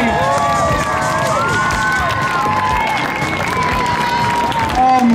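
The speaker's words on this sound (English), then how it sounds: "Clap those hands for the FMX Pro Street Team." A large outdoor crowd claps and cheers loudly and steadily for the FMX Pro Street Team freestyle motocross riders at a BMX show, with shouts rising over the applause and a voice briefly calling out.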